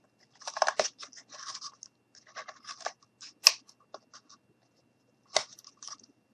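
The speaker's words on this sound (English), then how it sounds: "Cut this out like this." Scissors cut out a Santa boot ornament, giving a few quiet, close snips and crisp crunches spread out with short silent gaps between them.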